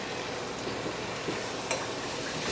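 Arancini rice simmers and sizzles in a pot as stock is ladled in, a dense steady bubbling hiss with stirring scrapes and a brief splash near the middle, close and fairly loud, with no talking.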